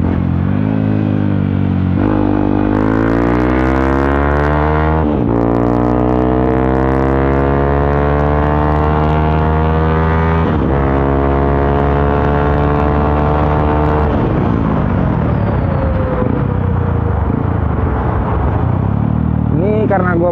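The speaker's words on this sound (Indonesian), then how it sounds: "Ini karena gue pakai knalpot racing, jadi PVA-nya itu jalan pas udah nyentuh RPM 7000." A Yamaha WR155R motorcycle fitted with a racing exhaust revs up repeatedly, its engine note climbing in several rising sweeps before dropping back. It is loud and close throughout, with no talk over it.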